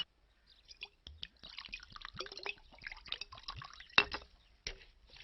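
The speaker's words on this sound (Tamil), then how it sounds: "ஏய், எனக்கு சோடா மட்டும் ஊத்து" Soda pours into a glass, a thin trickle with scattered drips and fizzing splashes, faint and close, broken by a couple of short knocks.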